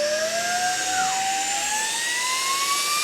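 A Smoture cordless vacuum cleaner runs close by with a high, whining motor tone that dips then rises steadily in pitch, loud and continuous with no talking.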